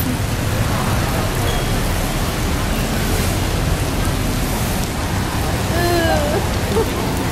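Steady rainy-season rain in Bangkok hisses as a dense, even wash of noise, with a faint low rumble underneath and brief voice-like sounds near the end.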